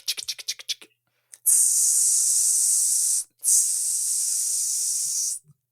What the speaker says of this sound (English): You can finally use the bug spray.